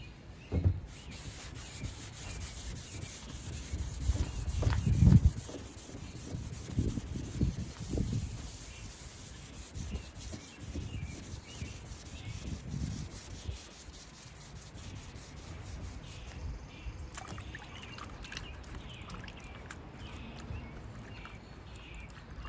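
Sandpaper rubs back and forth by hand over glazing putty on a BMW E46 hood, a steady close scratchy sanding rhythm that swells louder early on and then continues more evenly, with no talking.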